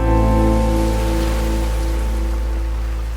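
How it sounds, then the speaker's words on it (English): Heavy rain pours down steadily at a clay shooting event in Texas, a loud, dense wash of sound with a low continuous hum beneath it and no talking. "It turns out everything is bigger in Texas, even the rain."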